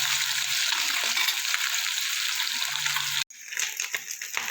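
Small mourola fish sizzle in hot oil in a pan, a loud, steady frying hiss that briefly cuts out and then resumes with crackling bursts.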